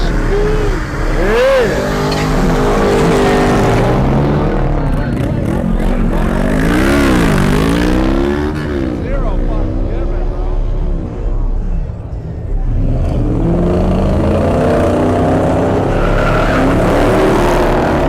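A car doing burnouts and donuts at a car meet: loud, sustained engine roar with revs sweeping up and down, tire noise and crowd voices blended in throughout.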